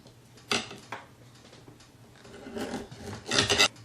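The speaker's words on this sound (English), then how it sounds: "You can slice the preserved pork to put in the clay pot" A knife slicing through preserved pork: several scraping, rasping strokes come one after another, with the last two longer and louder, close up on a cutting surface and free of talk.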